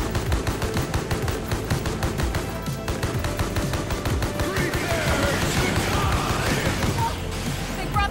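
Rapid railgun fire and other gunfire in the fast-paced shooter Mullet Madjack, loud and continuous throughout with dense impacts and crashing effects over pounding game music.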